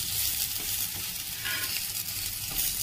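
Spiced jackfruit pitha fries in hot oil with a steady, close, hissing sizzle and crackle that continues without a break.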